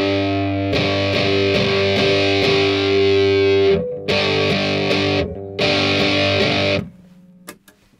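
An electric guitar plays distorted power chords, with a long ringing sustained chord followed by two strummed bursts separated by brief gaps, loud and close, then a quiet hum.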